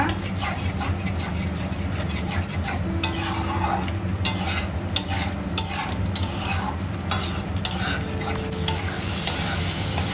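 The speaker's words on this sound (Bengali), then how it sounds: "আবারও ভাজা ভাজা করে নেব মশলাটা" Spices sizzle and fry steadily in a pan, with repeated scraping and tapping of a spoon stirring throughout.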